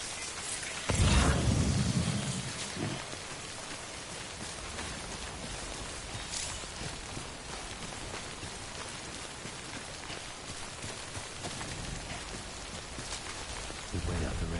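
Steady rainfall in the video game Death Stranding, a dense, continuous hiss of rain with a heavier burst near the start, lasting throughout with no talk.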